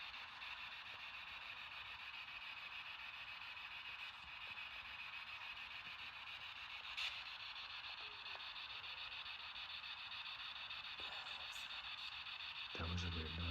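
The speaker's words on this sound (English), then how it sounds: "we are running the spirit box" Spirit box radio sweeping through stations during an overnight ghost hunt in a hotel, giving a steady hiss of static with faint fragments and a brief louder burst near the end.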